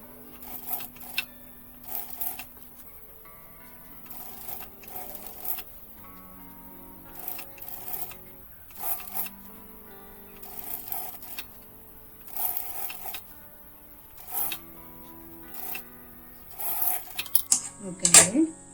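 A sewing machine stitches a baby frock seam a second time, running in short, repeated whirring bursts separated by quiet pauses, close and clear.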